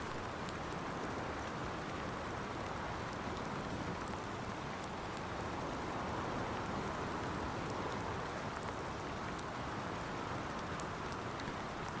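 Steady rain falls in Farming Simulator 19 on an alpine farm, a dense, even hiss of drops on surfaces that stays constant throughout, with no voices or other sounds.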